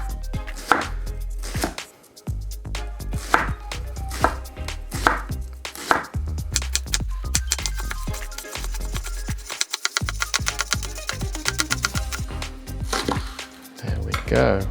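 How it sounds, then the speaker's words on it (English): Red spring onions being finely sliced with a knife on a chopping board, a steady run of sharp, close knife taps in quick irregular bursts with brief pauses. "All we're going to do is finely slice them."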